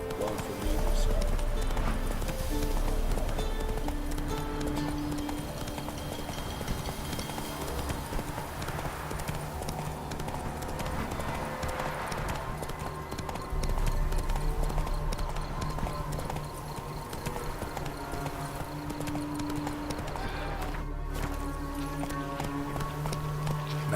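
Roach the horse gallops in The Witcher video game, a steady stream of rhythmic hoof clip-clops over a layer of game sound and music, continuous and moderately loud throughout.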